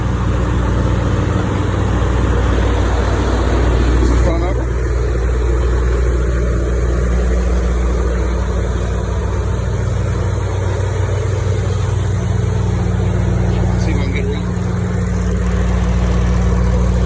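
A Freightliner Cascadia Evolution semi truck engine idles steadily, a loud, constant low rumble with a continuous drone running throughout and no voices.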